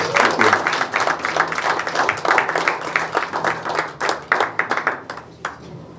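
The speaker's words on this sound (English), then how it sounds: "Give him a nice round of applause." Audience applause at a Dakota County candidate forum held by an Optimist Club, with crisp individual hand claps in a lively, uneven rhythm from a modest-sized crowd that thins out toward the end.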